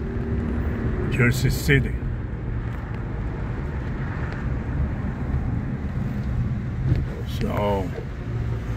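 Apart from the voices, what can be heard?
car driving along a city street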